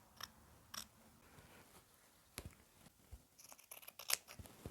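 Sharp scissors snip through fabric to shape the neckline of a historical shift, with irregular close cuts spaced apart and then a quicker cluster of snips near the end, without any talk.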